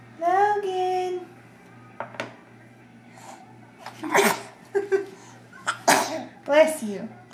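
A young child sneezes, a sharp burst that stands out among adults' close voices and soft breathy noises, with a couple more short bursts later on.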